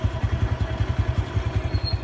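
Honda Revo 110 motorcycle engine idling smoothly, with a close, steady thumping pulse firing in an even rhythm at moderate volume.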